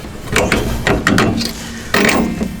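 A ratchet tightens a bolt during a coilover install on a 9N3 VW GTI, producing several loud, close bursts of rapid pawl clicking separated by short pauses.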